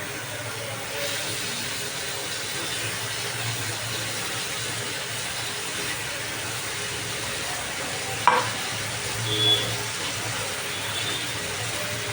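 Fried potatoes get stirred with spice paste in a pan, a steady sizzle with scraping strokes and one sharp clatter near the end, without talk.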